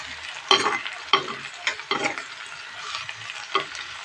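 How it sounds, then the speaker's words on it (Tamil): Finely chopped bitter gourd and onion sautéing in a pan, with a bright continuous sizzle broken by several distinct stirring scrapes at irregular intervals, close-up and with no voices. "பாவக்காய் வெங்காயம் எல்லாம் கொஞ்சம் நல்லா வதக்கி விடுவோம்"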